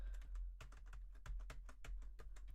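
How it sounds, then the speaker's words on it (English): Fingers tap a computer keyboard in a rapid, uneven rhythm of sharp clicks, close and clear against a low background hum. "My keyboard, I hate this keyboard."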